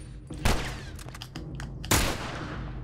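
Two sharp, loud rifle shots go off about a second and a half apart in The Last of Us Remastered, each one followed by a brief ringing tail.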